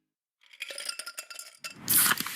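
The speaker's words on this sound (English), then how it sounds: "That's the sound of Pepsi Zero Sugar." Pepsi Zero Sugar cans or bottles clinking and clattering as a brief ad sound effect, a run of bright glassy clinks building into a loud fizzy hiss at the end, with no voices.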